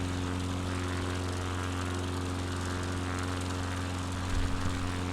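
A propeller light aircraft engine drones steadily in flight on a UK coastal tour from Edinburgh toward Aberdeen, a constant loud hum with a brief louder rumble near the end, no talking.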